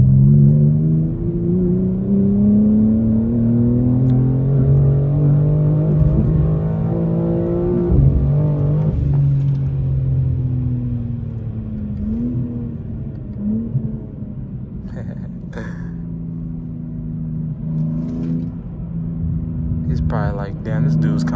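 A stage 2 tuned BMW M4 Competition (G82) revs up and down loudly, and its exhaust burbles and crackles as the engine note falls. People talk over the drive.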